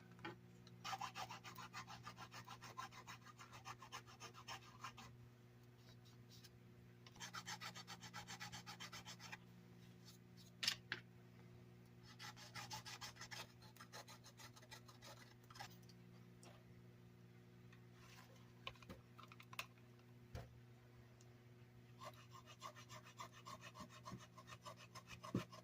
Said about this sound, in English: It's like trying to file an eraser.